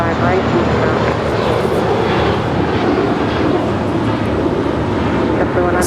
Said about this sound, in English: Sky's the limit for this A321 departing to Fort Lauderdale, JetBlue Airways Flight 100.